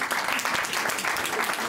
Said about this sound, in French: Est-ce qu'on peut applaudir ces personnes qui sont de l'autre côté?